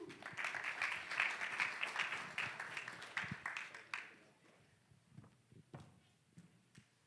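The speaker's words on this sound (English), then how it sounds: "please give Jason a big round of applause." Audience applause at a conference talk in San Francisco, dense clapping for about four seconds that then thins into scattered claps and fades out.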